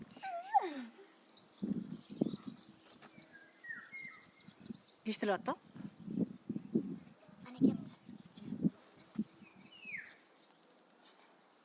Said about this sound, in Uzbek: Bulbullar sayraydi mana uyimda